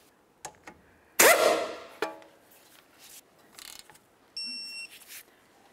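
A wrench tightening a tie rod castle nut during wheel bearing and hub work on a 2007-2011 Toyota Camry, heard as close ratcheting clicks and metallic clanks with a brief harsh rasp.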